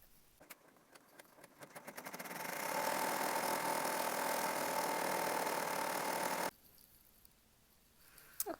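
A home embroidery machine stitches a design for a sewn wine bottle gift bag, starting with rapid needle clicks, building to a steady loud whirring hum, then stopping abruptly into quiet with a few small clicks.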